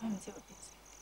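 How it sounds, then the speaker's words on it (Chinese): Night-time insects chirping in short regular high trills that repeat about every third of a second, faint and steady, partly under a voice. "今晚啲虫叫得好凄凉，好似特别凄凉咁。"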